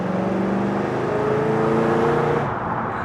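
A 1969 Pontiac Firebird with a 400 V8 engine of 6600cc accelerating, its engine note holding a loud, steady rising drone from inside the car before dropping off abruptly near the end.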